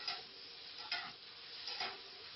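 Tongs stirring a hot, sizzling mixture in a pan, with a steady hiss broken by three soft scraping sweeps spaced about a second apart, close and fairly quiet, no voices.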